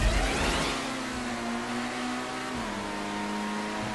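Video game car engine during a GTA race, a steady droning rev that dips in pitch partway through, with no talk over it.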